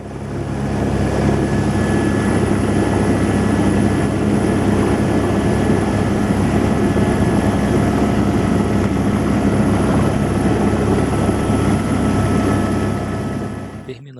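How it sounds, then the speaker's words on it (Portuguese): A helicopter in flight on a trip to Aperibé in Rio de Janeiro state gives a loud, steady rotor and engine drone that holds close and unbroken throughout, with no talking. "Como o helicóptero fez um monte de voltas"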